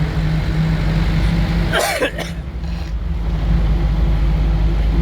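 A short burst of coughing or throat clearing near the middle, over a steady low engine-like rumble.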